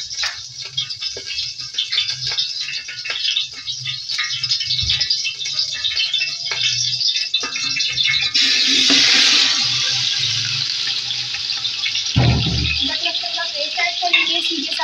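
Water drains off 1.5 kilograms of raw chicken pieces for a Pakistani chicken biryani, a steady close rushing and splashing with some rattling that swells near the middle and ends with a brief low knock.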